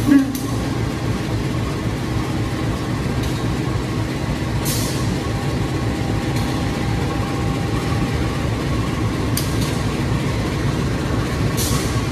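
The Baturraden Express train to Purwokerto rumbles steadily along the rails, a continuous low roar with occasional sharp clicks and clanks from the wheels and cars.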